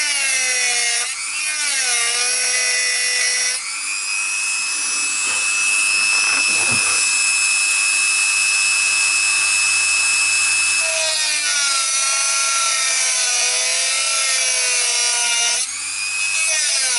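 A saw cutting wood across the top of an Avon Les Paul copy guitar body, a steady, loud, close grinding drone with the pitch sliding and wavering at intervals, running continuously without speech.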